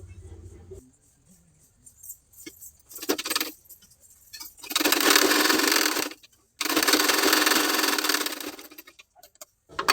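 Sewing machine stitching lining onto a sleeve: two sustained bursts of fast, whirring, close-up stitching separated by a short pause, preceded by a few brief starts and handling clicks.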